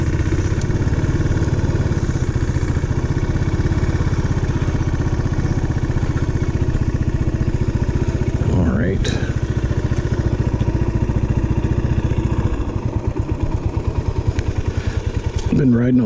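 A Suzuki S40 motorcycle idles with its choke half on, a steady low engine throb running through the whole stretch, close and fairly loud, with a brief swell near the middle and another toward the end.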